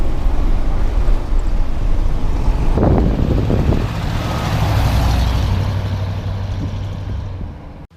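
A big 1975 International Harvester truck climbs a hill, its engine droning loudly and steadily with wind buffeting the microphone; the engine note drops into a lower hum partway through before fading at the end.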